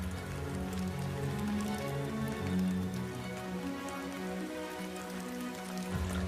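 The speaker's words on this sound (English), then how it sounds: "Rain falls incessantly throughout the Amazon's wet season" Steady heavy rain drums on leaves and surfaces in the Amazon rainforest during the wet season, a dense, continuous close hiss with no voices.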